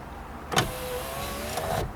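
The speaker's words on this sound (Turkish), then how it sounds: "Yaptığımız işlem doğrultusunda camımız açılıyor mu?" A Fiat car door's electric power window runs once, about 1.3 seconds of steady motor whine with a clunk as it starts and another as it stops, close up and alone.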